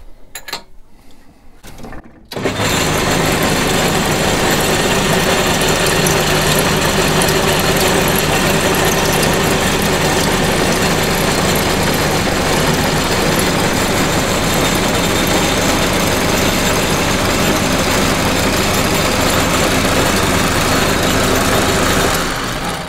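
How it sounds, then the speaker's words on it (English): A motorised machine winding copper wire onto a bass string, starting after a short quiet moment and then running as a loud, steady mechanical whir and rattle that holds continuously. "once you press that, it kind of the motor starts and it turns the machine, so we can wind the copper onto the string"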